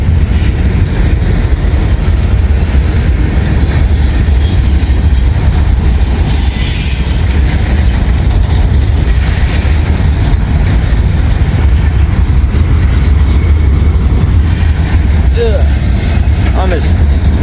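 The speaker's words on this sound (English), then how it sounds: "Oh, it's a double DPU coming through." A freight train with two DPU locomotives climbs a hill and passes close by, a loud continuous rumble of engines and rolling wagons with intermittent wheel squeals and clatter, a voice talking over it.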